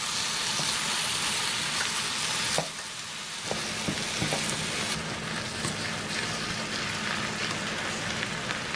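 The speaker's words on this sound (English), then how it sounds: "So I'm going to get this on the skillet and start it browning." Hamburger meat browns in a skillet with a dense, steady sizzle and crackle close by. A brief lull comes before it picks up again, along with occasional light scrapes.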